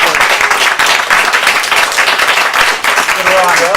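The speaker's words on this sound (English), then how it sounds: "Another round of applause for these two." Sustained applause from an audience at the SGDQ 2013 speedrunning marathon, dense clapping that fills the whole stretch, loud and even, with a voice briefly audible near the end.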